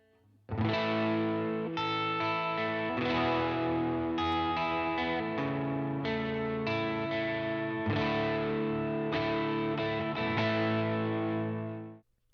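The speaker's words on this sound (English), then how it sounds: "Let's listen to my Universal Audio Dream 65 Reverb." Distorted electric guitar chords ring out loud and sustained through a Universal Audio Dream 65 Reverb amp emulator pedal, shifting between a few chord changes before cutting off.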